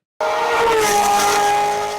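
An open-top sports car engine roars loudly and steadily, holding a high revving pitch for a couple of seconds after a sudden start.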